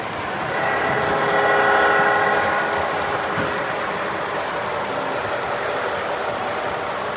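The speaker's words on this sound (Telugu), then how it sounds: "మూడు ట్రైన్లు పోతున్నాయి చూడండి." Model electric trains running on a layout with three active tracks, a continuous whirring rumble with faint clicking, steady and close, no speech.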